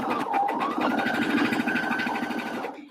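A sewing machine runs steadily as it stitches a bucket hat seam, a fast continuous mechanical whir that holds for nearly three seconds before stopping, close and alone with no talk.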